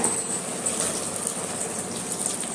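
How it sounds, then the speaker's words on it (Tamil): Water poured into a cooking pot while making mushroom biryani, a steady gushing splash at moderate level close by, with no talk over it. "இதில் வந்து 6 டம்ளர் தண்ணி நிறைய ஊற்றிட வேணும்"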